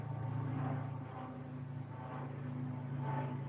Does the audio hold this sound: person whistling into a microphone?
no